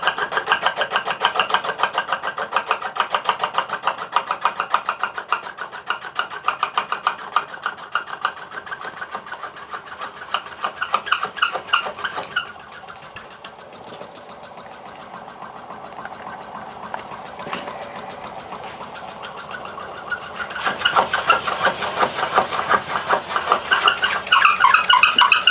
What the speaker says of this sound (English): That's cutting away at the aluminium that we welded in.